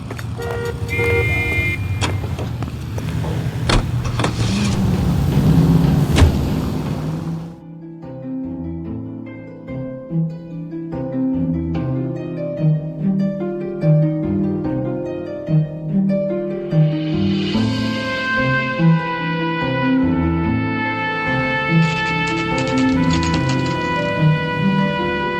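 A car driving in the L.A. Noire video game, a loud engine rumble and road noise for several seconds that gives way to a period-style music score with the engine still faintly under it.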